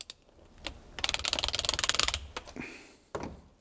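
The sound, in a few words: torquing bolts on an Alpina B7 transmission valve body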